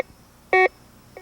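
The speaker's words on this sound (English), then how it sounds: "Listen for 2 beeps." A single bright electronic beep from a Garrett metal detector, about a tenth of a second long, cuts through near silence, with a faint fainter blip at the end.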